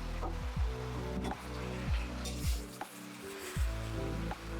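Chopped eggplant and tomatoes cook down in a pan with a soft, low sizzle, broken by a few periodic dull thumps and clinks from the pan, all fairly quiet and close.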